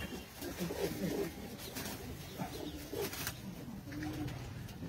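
Racing pigeons coo softly in a loft, repeated low throaty calls overlapping one another, with faint murmuring voices and light rustling behind them.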